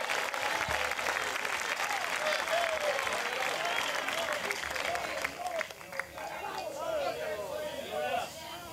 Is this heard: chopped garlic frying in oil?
no